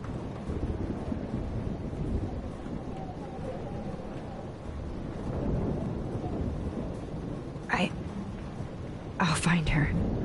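Thunderstorm in the game Life is Strange: a continuous low rumble of rain and wind with rolling thunder, under quiet dialogue between characters late on.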